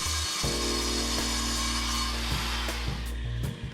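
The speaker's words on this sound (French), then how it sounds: "consiste à employer une meule ordinaire" An ordinary hand grinder cuts into a wall to make channels for plumbing and electrical work, a loud continuous whine with steady harmonics, shifting pitch slightly as the disc bites and eases, with no voices.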